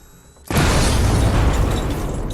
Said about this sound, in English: We're going to do a little explosion.